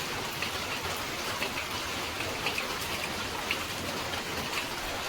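Heavy monsoon rain pours steadily near a dam, a dense, even hiss of drops on surfaces with faint scattered splashes, continuous and unbroken with no voices.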